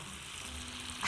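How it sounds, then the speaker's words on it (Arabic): Butter sizzles steadily in a pan as it browns for gravy, a brief, even frying hiss without speech. "هنا بقى انا عايزه الزبده تغير لونها عشان عايزه اعمل جريفي"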